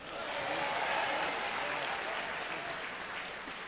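Audience applause at an alumni tribute event, a dense wash of many hands clapping at once, steady and moderately distant for several seconds.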